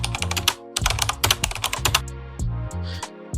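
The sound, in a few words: keyboard typing sound effect added in CapCut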